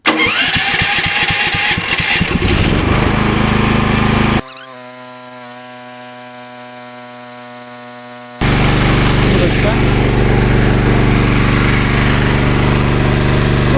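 A Champion CPG7500 dual-fuel gas-petrol generator with electric start cranks and runs loudly, dropping to a steady tonal hum midway before the full roar returns, close by.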